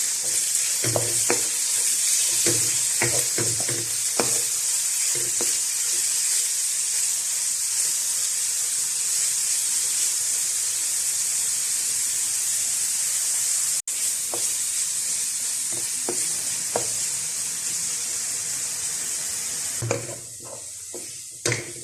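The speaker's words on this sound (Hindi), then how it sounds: "इसको भी हमने फ्राई करना है।" Chicken cubes frying in a pan with garlic and onion for chicken chowmein, a loud steady hiss and sizzle with occasional scraping stirs, close up.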